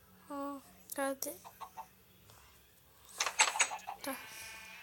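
Chickens about to be fed cluck in short bursts at close range, with a voice and other talk mixed between the calls.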